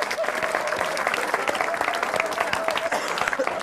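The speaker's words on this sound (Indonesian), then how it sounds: "Tepuk tangan dong sekali lagi dong." An audience applauds at a stand-up comedy show taped for Indonesian television on Metro TV. The clapping is dense, steady and sustained, filling the whole stretch without talk.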